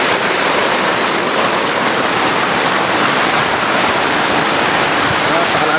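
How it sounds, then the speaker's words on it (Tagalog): Strong wind and heavy rain sweep across a farm's corn field, a loud, steady wash of broadband noise that roars unbroken throughout with no distinct individual sounds standing out. "Ang lakas ng hangin, mga Pinagpala."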